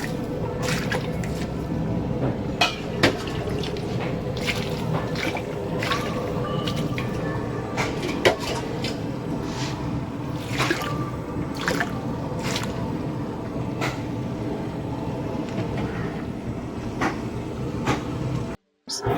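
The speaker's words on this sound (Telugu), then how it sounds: "వాటర్ వేసుకుందాం" Water poured into a pot of fish curry that is cooking with chilli powder and salt, making a continuous, fairly loud sloshing and gurgling close by, with scattered clicks and knocks and no speech.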